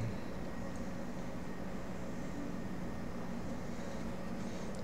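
Steady engine and cabin drone of a Latam Boeing 777-300 airliner in Microsoft Flight Simulator 2020, a constant broadband roar with a low hum that holds even, with no variation.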